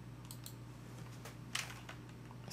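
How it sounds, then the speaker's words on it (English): Light clicking of keys on a computer keyboard, a few soft irregular taps heard close over a steady low hum. "I'm going to capitalize this on the keyboard. I'm holding my shift key down"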